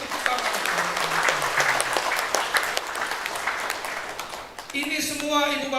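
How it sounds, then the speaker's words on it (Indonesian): Audience applause at a National Education Day ceremony, steady clapping from a crowd with a voice speaking over it, fading as the speaker resumes near the end. "Mari kita tepuk tangan."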